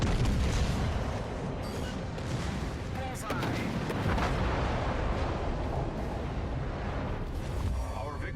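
HMS Vanguard's secondary guns firing in World of Warships: Legends, a dense barrage of booming naval gunfire and explosions rolling continuously and loudly, with a voice speaking at times.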